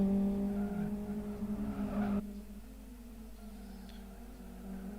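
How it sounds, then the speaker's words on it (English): Race cars in the Live For Speed racing game, XFG class, with a loud engine drone and a sustained tyre squeal as a car brakes into a corner, then a quieter engine hum after it cuts off. "There was a lot of tyre skidding noise"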